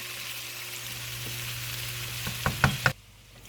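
Beef fat fries and caramelizes in a pan for an African-style curry pho, a steady close sizzle with a few louder crackling pops near the end before it quiets abruptly.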